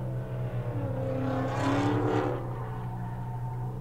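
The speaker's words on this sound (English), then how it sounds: "I do see the drift car coming around." A drift car on a race track sweeps past with a rising then falling engine roar, loudest midway, over a steady low rumble and no talk.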